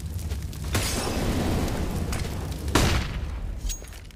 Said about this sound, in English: that nade does land on Plopski, slows him down as well.